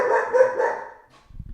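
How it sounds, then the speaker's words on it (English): Dogs barking to alert to an intruder, a burst of loud barks up front that fade out, followed by a few low thumps. "dogs are barking, alerting to an intruder."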